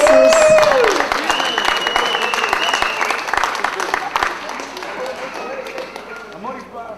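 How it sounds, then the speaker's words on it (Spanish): Wedding reception audience applauding, loud clapping at the start that thins and fades over several seconds, with a few taps and a voice or music tone under it. "Un aplauso para ustedes"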